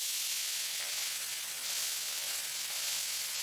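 Udon noodles, 100 grams and freshly washed, hit a hot pan with shallots and garlic for Chinese-style wet fried noodles, giving a steady, even sizzle and hiss that holds without a break.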